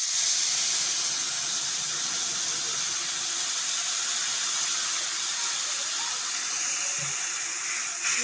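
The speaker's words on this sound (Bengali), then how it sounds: "এবার আমি দিয়ে দিচ্ছি আগে থেকে তেঁতুলটা ভিজানো ছিল সেই তেঁতুল জল।" Soaked tamarind water poured into a pan of dry red chillies fried until red, giving a steady, close sizzling hiss with a watery rush that holds level throughout, no voices.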